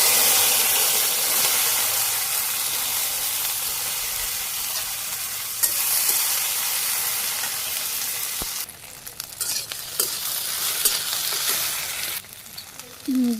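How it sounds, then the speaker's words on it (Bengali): Okra sizzles and spits in a hot pan in a Bangladeshi village kitchen, a steady dense crackle that runs throughout and thins briefly near the end, with occasional stirring scrapes and no talking. "ঢেঁড়সগুলো ভেজে নিই।"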